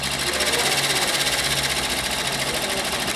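Tajima embroidery machine running in a shop while picking a thread colour for a cap, a dense, rapid mechanical chatter with a steady low hum, continuous and close throughout.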